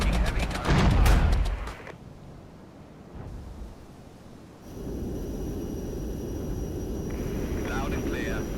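Gunfire and heavy incoming fire in the war video game Regiments: loud clustered blasts at the start, then quieter rumbling impacts and a steady battle noise bed, with a voice talking over parts of it.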